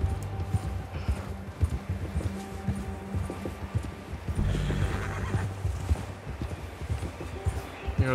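Horse in Red Dead Redemption 2 gallops with steady, close hoofbeats and lets out a loud whinny midway, with a voice talking over parts of the game audio.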